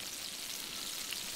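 Chicken fried steak sizzles in a pan on a firebox stove, making a steady close hiss of frying with a few brief pops near the end and no talking.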